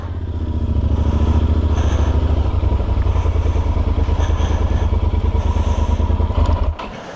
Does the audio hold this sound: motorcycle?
yes